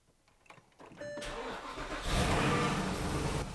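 A wrecked Porsche Cayenne's engine cranks and catches around one second in, then settles into a steady, fairly loud idle with a broad rushing tone that swells briefly and holds close by.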